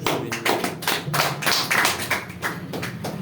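A short burst of audience clapping, a scattered patter of hands rising and falling over a few seconds.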